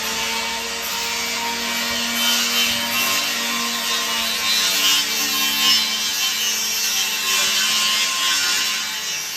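A steady, loud grinding whine of a power saw cutting Jerusalem stone at a construction site, continuous and harsh with a hissing edge throughout, no speech.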